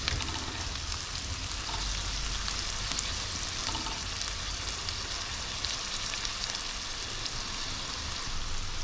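Two tablespoons of butter sizzling in a frying pan before garlic and ginger are added, a soft, steady crackling fry heard close and alone, with no voices.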